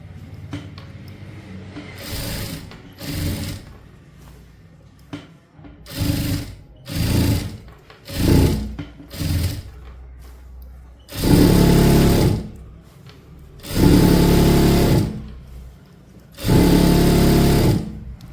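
A sewing machine double-stitches a churidar pant, starting with short stop-start bursts of needle chatter, then running in three longer, loud, steady whirring stretches with brief pauses between them.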